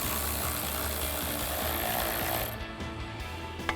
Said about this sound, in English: So we're gonna use our extension and 10mm socket.